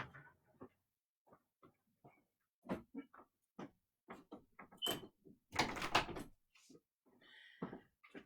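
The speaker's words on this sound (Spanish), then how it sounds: "les pido un segundo de permiso para cerrar la puerta, para que no se oigan ruidos exteriores" Door being closed in a quiet room, a cluster of faint knocks and shuffling clatter ending in a louder close, with soft handling noises around it.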